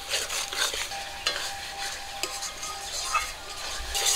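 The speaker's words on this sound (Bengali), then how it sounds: "মশলাটাকে কিছুক্ষণ ভাজবো।" Ground cumin, mustard, ginger and garlic paste with turmeric, chilli powder and salt fries in a pan in a rural kitchen, a soft continuous sizzle broken by repeated scrapes and taps of a stirring spoon against the pan.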